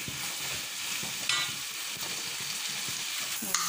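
Masala for mutton kuzhambu sautéing in a pan, a loud, continuous sizzle and crackle with a few scrapes of stirring, no talk.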